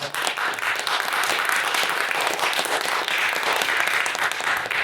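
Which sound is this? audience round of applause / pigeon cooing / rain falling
audience round of applause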